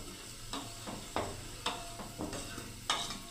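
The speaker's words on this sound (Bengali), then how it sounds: "দেখুন একটু হাতা দিয়ে বন্ধুরা নেড়ে দিলাম" A ladle stirs vegetable biryani in a pot, giving a series of scraping strokes and soft knocks over a low background sizzle.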